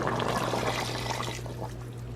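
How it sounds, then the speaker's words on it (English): Water poured into a cooking pot to keep a long-simmering dish from burning, a steady close splashing and trickle that gradually softens, with a constant low hum underneath and no talk. "I'm gonna add some water since this is gonna cook for a while"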